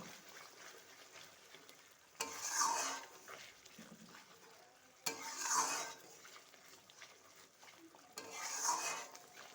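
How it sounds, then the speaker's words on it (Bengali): Dahi katla, a Bengali fish curry in yogurt with turmeric and garam masala, is stirred in a pan in three separate bursts of scraping and sizzle, with quieter frying between them, close and without talk. "সব উপকরণ একসাথে মিশিয়ে নেব।"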